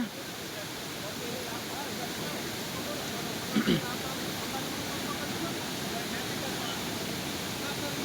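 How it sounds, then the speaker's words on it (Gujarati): Floodwater of the Ojat river rushing through a breached embankment in Bamnasa Ghed village, Junagadh, a constant loud broadband roar with no pauses, heard close by outdoors. "પાણી એટલું વહે કે અહીંયા ઊભા પણ દેતું નથી।"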